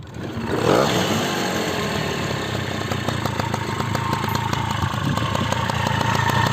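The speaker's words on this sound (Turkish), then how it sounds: "motoru çalıştırıp hem sesine bakalım hem bir hız testi yapalım" A moped engine with an aftermarket exhaust idles steadily at close range, a throaty, even rumble that barely changes over several seconds.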